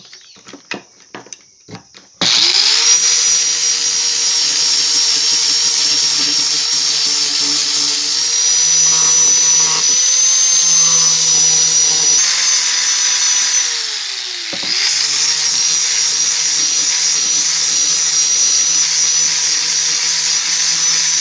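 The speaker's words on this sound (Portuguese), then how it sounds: "Usando a lixadeira agora." Electric sander shaping a wooden handle for a rice sickle: a few taps, then the motor starts and holds a steady high-pitched whine, dipping briefly under load midway before running on, loud and close.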